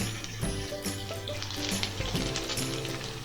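Dry red chilies, peeled garlic slivers and curry leaves fry in hot oil for a broad-bean pickle, giving a steady, fairly loud crackling sizzle with bright popping spits throughout and no talk.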